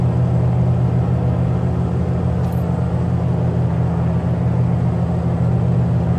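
Single-engine piston Mooney Ovation aircraft engine held at 2000 RPM in Microsoft Flight Simulator 2020, a steady, loud, droning hum with a constant low throb and no change in pitch.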